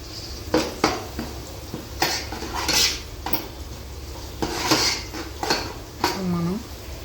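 Fish pieces being mixed with turmeric and chili powder in a metal dish for Andhra-style fish curry, close clinks and scrapes of utensils against the pot in irregular bursts, with a brief voice near the end.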